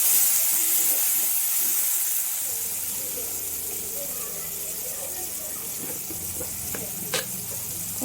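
Chopped tomato with salt fries in a pan, a soft steady sizzle and hiss with some stirring scrapes and a few sharp clicks near the end, close and moderate in level.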